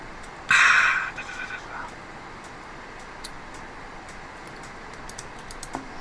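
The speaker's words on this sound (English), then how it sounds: "Do you guys want to hear this keyboard a bit more before I completely take off?" A burst of quick clacky keystrokes on an M65-A mechanical keyboard sounds close and loud for about half a second, then trails off into a few faint taps over a steady background hum.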